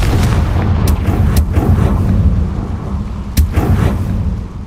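In the video game Hogwarts Legacy, the Confringo fire spell explodes in a series of loud, close blasts with sharp cracks over a continuous rumbling roar.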